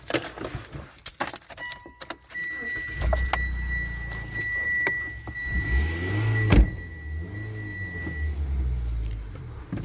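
A 2020 Mitsubishi Outlander starting off on a drive, with keys jangling and cabin clicks at first, then a low engine hum that rises and falls as the SUV pulls away, close and steady throughout.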